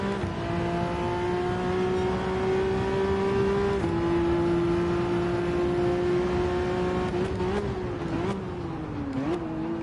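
A race car engine revs high in second gear during a race, a loud, sustained whine that holds steady, then dips and rises again near the end, heard from the cockpit with no talking.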